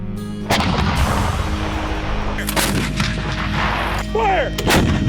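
Shotguns fire from goose hunters in a field on command, several sharp loud blasts in quick succession with rolling echoes, close by and with no talk over them.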